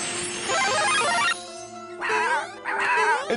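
Cartoon dog from the Super Mario Bros 3 animated series yipping and whimpering in several short, high-pitched bursts, loud and close, with brief gaps between cries.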